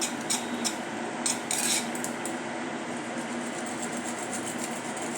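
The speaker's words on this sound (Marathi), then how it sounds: "आता हे दही आपण चांगले फेटून घेऊया।" A whisk or spoon beats yogurt (dahi) in a bowl for spiced buttermilk, giving close, steady scraping and clinking with a few brighter metallic taps early on.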